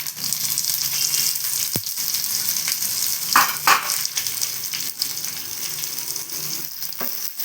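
Dried red chillies, curry leaves and green chillies frying in hot oil for a tapioca fry, stirred lightly: a continuous close sizzle with a couple of brief scraping stirs, no talking.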